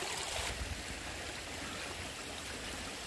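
Mountain water flows over rocks in a natural stream, a steady broadband rush and splash that stays even and fairly close throughout, with no voices.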